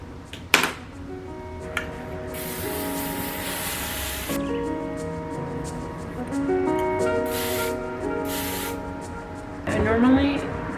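A conditioning hairspray with sunscreen hisses from an aerosol can in two long bursts and a few shorter puffs, sprayed onto hair close by over soft background rustling.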